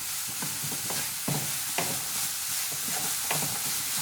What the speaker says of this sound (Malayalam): ജസ്റ്റ് ഈ പഞ്ചസാര ഒന്ന് ഉരുകി വരിക, അതുവരെ ഒന്ന് ഇളക്കി കൊടുക്കാം.